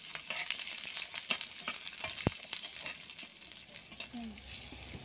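Onions frying in a pan give a soft, steady sizzle with occasional light stirring clicks and a sharp tap, faint and close.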